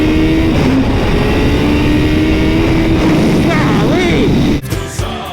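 A turbocharged Suzuki Hayabusa motorcycle engine roars loudly and steadily as it accelerates, its pitch sweeping upward with gear changes before cutting off abruptly near the end.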